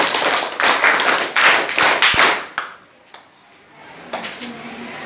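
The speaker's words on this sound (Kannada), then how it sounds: "ಆ ಮಗುಗೆ ಒಂದು ಪ್ರೀತಿಪೂರ್ವಕ ಚಪ್ಪಾಳೆ" Classroom applause for a student who has just proved a geometry theorem, a short burst of close, loud hand clapping that stops abruptly, leaving near-silence and a faint knock.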